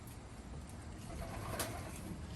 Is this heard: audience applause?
no